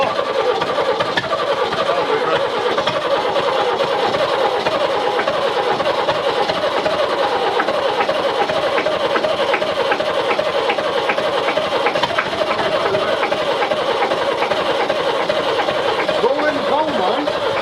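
An old, long-abandoned McCormick International 434 tractor engine cranks and catches, then runs with a steady, rough mechanical chatter throughout, loud and close, with no voices over it.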